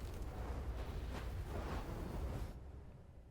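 A light wizard's spell impacts in Total War Warhammer 3, a deep, rumbling, explosive boom that sustains for a couple of seconds and then thins out.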